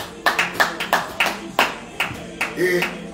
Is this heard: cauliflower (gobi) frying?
no